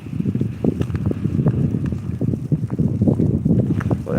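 Steady wind gusting outdoors near Coney Island, a rough, continuous rushing with buffeting on the microphone, loud and close throughout, with no voices.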